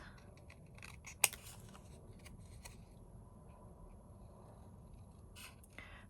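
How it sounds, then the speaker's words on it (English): Paper being cut with scissors during a papercraft session, faint snips and rustles over a low background hiss with one sharper click, no talking. "I'm going to cut it slightly bigger and use the reverse side of that"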